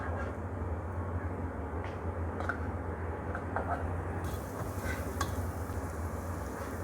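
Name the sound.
onions sautéing with cumin in hot oil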